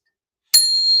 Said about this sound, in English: Susie, who is a minister, gave us this bell, and this is the Sean is lying bell, which you'll never hear ringing